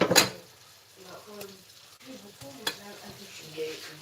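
Strawberries sizzle and fry in a pan, with a scrape of stirring near the start and faint clinks from the pan, continuing at a low steady level for a few seconds; a voice speaks softly underneath.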